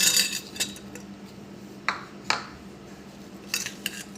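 Chopped raw mango is mixed into a red pickle spice mixture, with a spoon scraping and clinking against a metal bowl in a few separate strokes, close and clear with no talking.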